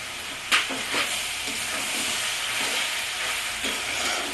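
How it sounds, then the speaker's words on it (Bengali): Cabbage fries Bengali style in a pan with a steady sizzle, while a few sharp scraping clicks of stirring come through near the start and again toward the end. "বাঁধাকপিও ভাজা ভাজা মতো হয়ে গেছে"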